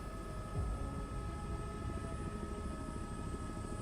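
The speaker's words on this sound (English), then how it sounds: "There's a CH-47 Chinook." CH-47 Chinook helicopter in Microsoft Flight Simulator 2024, a steady droning rotor and engine rumble that holds constant and fairly close throughout, with no talk.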